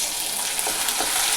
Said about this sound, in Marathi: तेल टाकल्यानंतर मोहरी टाकली